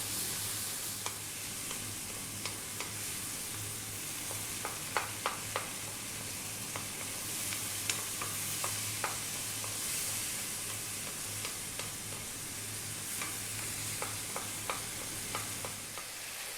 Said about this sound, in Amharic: ከዛ ይሄንን በደንብ አድርገን እንጠብሰዋለን።